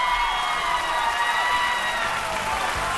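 Applause and cheering from a live audience at a singing competition show, a dense, even wash of clapping with scattered shouts, holding steady throughout without pauses.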